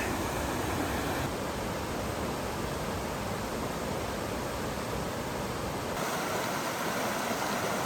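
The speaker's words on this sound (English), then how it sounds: "We've come out to this little creek access point. This is North Fork Silver Creek." The North Fork Silver Creek at Silver Falls State Park, Oregon, flows in a steady, loud, close rush of water with no break, heard at a creek access point along a hiking trail.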